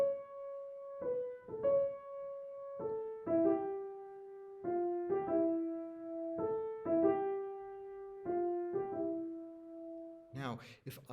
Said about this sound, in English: Brahms' Fourth Symphony has a melody like this.